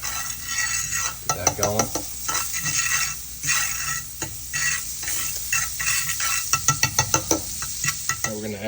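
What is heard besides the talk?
butter sizzling in a pan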